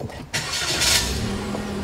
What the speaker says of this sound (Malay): terus start enjin